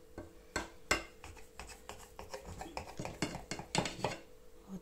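A knife slices through a sugar-topped, layered Romanian flatbread (turtă in foi), giving a run of close, crisp cutting and scraping strokes with a few sharper clinks against a pan or board, no voices.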